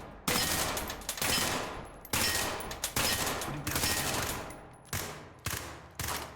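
Short bursts of rifle fire in the tactical shooter video game Ready or Not, about eight rapid, close, loud bursts in an uneven rhythm with no talking.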